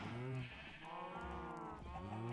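Minecraft sheep bleat in a run of wavering, nasal calls, close and fairly quiet, with several drawn-out bleats following one another.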